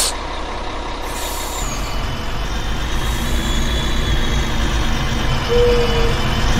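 An old twin-steer truck in a video game idles with a rumbling engine, then air brakes hiss as the engine note rises and holds loud and close.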